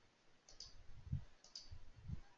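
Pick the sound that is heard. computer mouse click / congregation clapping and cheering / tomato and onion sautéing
computer mouse click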